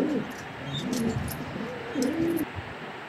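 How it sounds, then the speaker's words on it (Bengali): A male Afsan grizzle racing homer pigeon coos close by in a loft, giving a few low, rolling, repeated calls with faint background noise. "পাগলা ডাক নরের, মাশাল্লাহ।"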